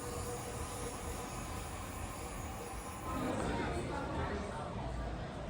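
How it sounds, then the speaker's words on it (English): An LNER Azuma train passing, a steady broad rumble and rush of wheels and air that swells slightly louder partway through, heard from trackside with a faint voice in the background. "There is this LNER AZUMA"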